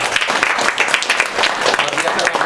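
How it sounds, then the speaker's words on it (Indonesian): Audience applause after a university lecture, dense, close crowd clapping sustained through the whole moment. "Terima kasih kepada Bang Manahan, tepuk tangan sekali lagi."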